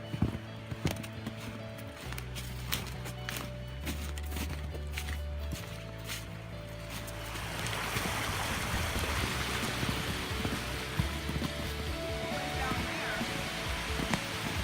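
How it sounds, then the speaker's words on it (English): Rushing water near a waterfall in Griggs Gulf State Forest grows to a steady hiss under crunching footsteps through brush, louder in the second half. "you can hear the telltale sign of rushing water"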